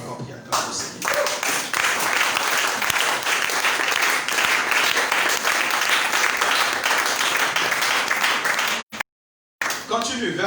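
Church congregation applauding the Lord during a service, a dense and loud sustained clapping that fills nearly the whole stretch, with voices mixed in and a sudden brief dropout near the end.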